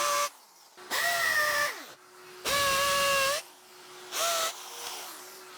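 A power drill bores holes for Tapcon concrete screws in a basement floor, running in three separate loud whining bursts of about a second each, separated by pauses with a background hum.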